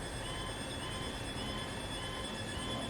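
Trains in the video game Transport Fever 2 rumble along steadily, a faint continuous rolling drone with soft rail noise and no voices.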